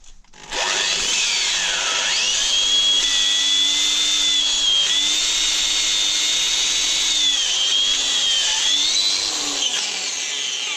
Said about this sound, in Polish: wiertarka, żeby jeszcze wytrzymała te dwa otwory.